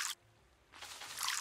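Water splashing onto crop soil in the farming game Roots of Pacha, with a short spray followed by a longer, brighter splash a moment later, fairly soft and heard alone.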